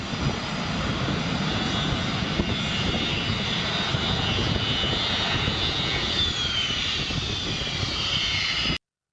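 A Delta jet airliner roars steadily at takeoff power while skidding on takeoff, a broad continuous rumble with a high whine, loud and sustained before cutting off abruptly.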